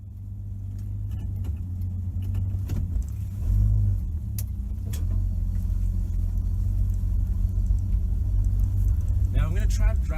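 A 1967 Plymouth Valiant with a slant six engine drives around town with a low, steady engine rumble heard from inside the car, while someone talks over it.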